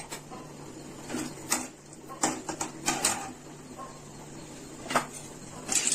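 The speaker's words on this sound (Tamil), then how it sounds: "கடுகு பொரியுதுங்க வந்துச்சு" A tablespoon of mustard seeds spluttering in hot oil while tempering for a banana flower and drumstick leaves poriyal: irregular, close crackling pops and sizzling bursts over a low steady kitchen hum, with no talking.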